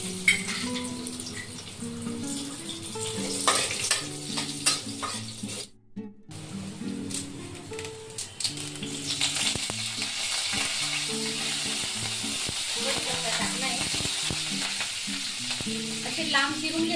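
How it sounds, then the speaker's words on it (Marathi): Cumin seeds and finely chopped garlic sizzle in a little hot oil in a home kitchen, a steady close crackle with stirring clatter throughout and a brief dropout partway. "थोडं एक पडी तेल टाकतोय आपण. एक चमचा जिरे, बारीक कट केलेला लसूण,"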